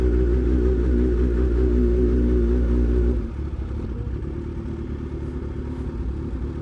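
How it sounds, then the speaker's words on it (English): A Honda Fireblade-style sport motorcycle rumbles loudly close by, its engine held at steady revs while the clutch slips, then drops abruptly to a lower, rougher idle-like clatter partway through. "Just casually burning the clutch"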